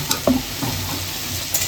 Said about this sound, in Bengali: এখন তো ভাজা হচ্ছে